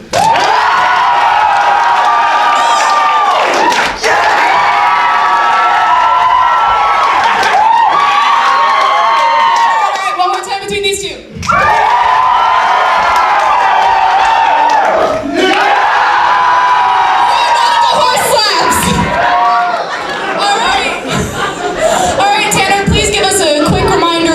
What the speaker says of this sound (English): Cheer when I point to the one that you want to see played. Please cheer very loudly.